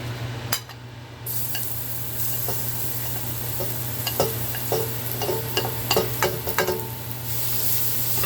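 Garlic sizzling in about two tablespoons of hot olive oil in a pan for seafood fettuccine, a continuous close fry with bursts of crackle and utensil clinks, no talk.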